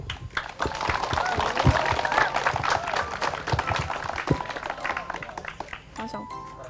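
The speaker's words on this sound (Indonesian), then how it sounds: "Oke, beri tepuk tangan untuk pemenang." Students applaud the quiz winner at SMPN 4 Banua Lawas school: a dense, steady patter of many hands clapping, mixed with voices and chatter throughout.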